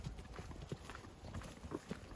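A mare's hooves clip-clop in an uneven rhythm close by, several steps spread across the moment, with no voices over them.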